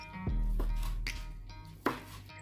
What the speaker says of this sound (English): We cut into small cubes.